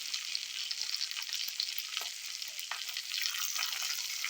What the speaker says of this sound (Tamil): இதெல்லாம் நல்லா வறுத்துட்டு கொஞ்சம் நேரம் ஒரு நிமிஷம் வதக்கிட்டு